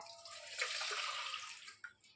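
Leftover water from making homemade ghee, drained off the churned cream, pours briefly into a bowl in a close, splashy stream that tapers off with a small final splash.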